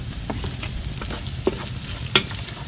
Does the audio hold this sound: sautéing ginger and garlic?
yes